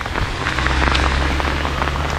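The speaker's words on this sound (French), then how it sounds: "Vous avez vu du soleil à la grêle, hein?" Hail hammering down in Norway in August, a dense, loud, continuous patter of hard impacts on surfaces with a low rumble beneath, no voices.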